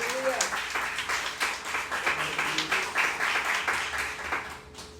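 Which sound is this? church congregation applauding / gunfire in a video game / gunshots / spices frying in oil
church congregation applauding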